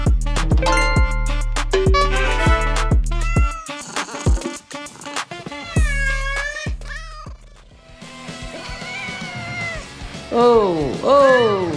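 A cartoon cat meows and caterwauls in drawn-out, wavering cries near the end, following music with plucked notes, while a voice talks in between.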